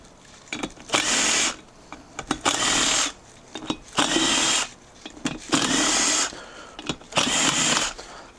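Power tool loosening half-inch rocker box bolts on an Ironhead Harley XLCH Sportster cylinder head, six loud close bursts of a second or so each, separated by short quiet gaps and clatter.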